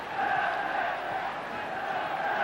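Football stadium crowd at a 1996 Champions League match between Manchester United and Fenerbahçe roars after an off-target shot, a steady, dense wash of noise that holds loud throughout.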